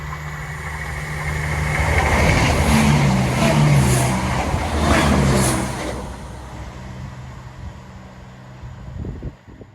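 A Class 170 Turbostar diesel multiple unit on a Cardiff to Nottingham service passes a foot crossing, its engine drone swelling to a loud rumbling peak in the middle and then fading as it moves away.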